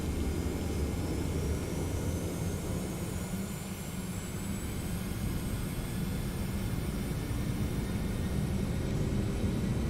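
Steady, loud broadband roar of a Boeing 717 jet spooling up for takeoff in the TFDI 717 flight simulator, with a constant low rumble and a faint rising whine running through the whole stretch, no talking.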